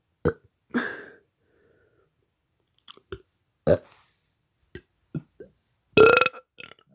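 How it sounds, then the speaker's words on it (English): A person burps in a string of short, separate belches with gaps of silence between them, close up and fairly loud, the last one longer and deeper. "I hope you guys enjoyed me burping"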